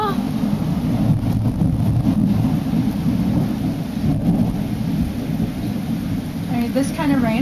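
Heavy rain pours steadily during a thunderstorm on a patio, with a dense continuous hiss and a few low rumbles of thunder underneath.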